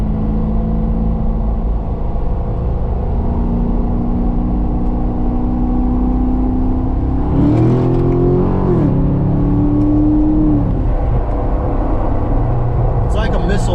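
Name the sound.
Chevy Corvette Grand Sport engine revving and accelerating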